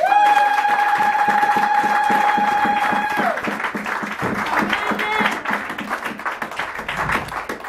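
A church congregation claps and cheers, a dense, steady patter of many hands close by, with a sustained sung or cried tone over the first few seconds and voices mixing in throughout.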